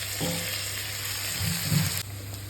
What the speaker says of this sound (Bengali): আমি সেইভাবেই হালকা হালকা করে আলুগুলো এক সাইড থেকে ভেজে নেব।